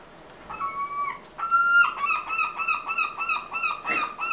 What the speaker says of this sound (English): We've got a seagull in our video.